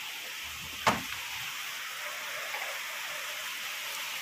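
Rain lashing against a window in a downpour with cool wind, a steady soft hiss of falling water, broken early by a single sharp knock or thud nearby.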